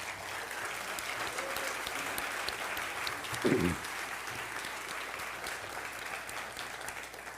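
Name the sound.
audience applause for city council candidates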